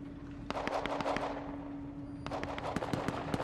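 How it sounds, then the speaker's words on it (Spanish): Rapid bursts of gunfire in the video game Rust crack repeatedly over a steady background hum, some shots in quick runs, others spaced apart. "no veas la de tiros que hay"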